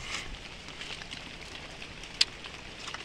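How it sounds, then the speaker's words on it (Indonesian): Rain falls on young coffee plants of the Pandi clone, a faint, steady patter and hiss with a few soft drops and one sharp tick standing out, no voices. "Turun hujan ya, teman-teman."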